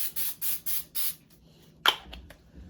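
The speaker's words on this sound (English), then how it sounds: "Spray my cookie pan." Several short hissing bursts of cooking spray on a cookie baking pan, about four in a quick rhythm, followed by a brief clatter of the pan; close and fairly quiet.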